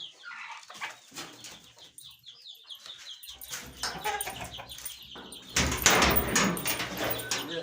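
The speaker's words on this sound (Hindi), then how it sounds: "दरवाज़ा में खोल दिया।" A door swings open at a village coop where eggs are gathered, a rattling scrape rising late amid clucking chickens, flapping and scattered background noises.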